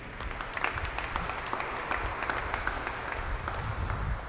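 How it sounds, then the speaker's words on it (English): An assembled congregation at an early-morning Holy Mass gives a round of applause for a benefactor, steady and moderately loud throughout, with no talking over it. "Let's give June a round of applause"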